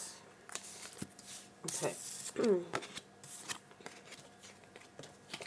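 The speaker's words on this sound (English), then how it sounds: "You saw me shuffle the deck." A deck of tarot cards is shuffled by hand, with brief riffling and papery slaps scattered among soft handling noises. A person speaks briefly between the bursts.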